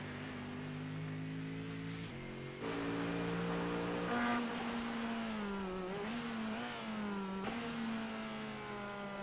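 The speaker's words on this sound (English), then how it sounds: "Man, the Corvette sounds upset." A Corvette race car at Barber Motorsports Park during a sports car series race howls through its gears, the engine note rising and dropping with several upshifts, loud and close, while other cars drone in the background.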